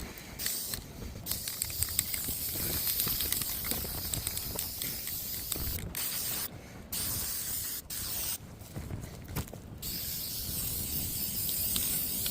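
Rust-Oleum spray paint hisses from an aerosol can onto a chandelier outdoors in a breeze, a steady close hiss broken by a few brief pauses between bursts over about twelve seconds.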